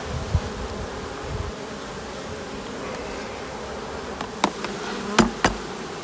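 A steady drone of many honeybees buzzing close by at an open hive, with a few sharp knocks and taps toward the end.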